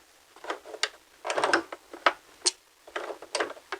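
A sewing machine stitches a pocket seam back and forth, giving short, clattering mechanical bursts separated by brief pauses, close and fairly quiet.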